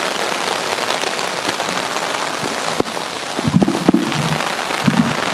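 Rain falls steadily on surfaces at an outdoor memorial gathering in Bondo, a loud dense patter with sharp crackling drops and a few brief low murmurs of the crowd.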